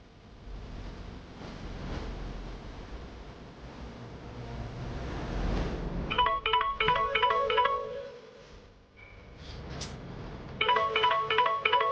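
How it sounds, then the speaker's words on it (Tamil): Telephone ringback tones from a call being placed pulse in repeated bursts of electronic trills, first after several seconds of steady background noise, then again near the end, fairly clear and with no talking over them. "ஏத்தா அமுதா, மாப்பிள்ளைக்கு ஃபோன் பண்ணி பாருமா."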